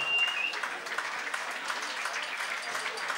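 An audience in a VIP lounge at a Fortuna Düsseldorf versus FC Augsburg match applauds a goal scorer, a brief, fairly soft patter of clapping from a small crowd.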